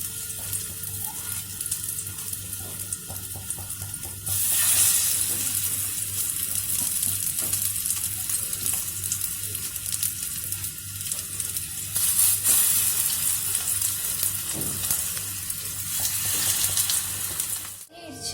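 Potato cutlets, patted flat like vadas, fry in oil in a greased pan, giving a steady crackling sizzle that swells louder partway through and stays continuous to the end.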